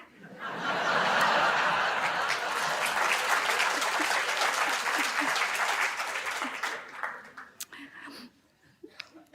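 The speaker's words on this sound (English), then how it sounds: "it's you clapping, I didn't say it" An audience at a talk on narcissism claps loudly for several seconds, mixed with chuckles and scattered laughter, before the applause thins out into a few isolated claps.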